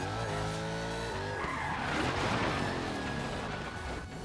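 Tires squeal and skid through a long car drift in the racing game Forza Horizon 3, with an engine tone sweeping up and down under a continuous, loud screech.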